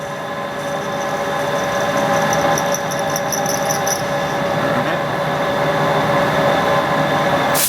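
Kearney and Trecker milling machine cutting a motor bushing in a drill hole, a steady loud mechanical drone with a constant whine and a brief run of high ticking chatter midway, continuous throughout.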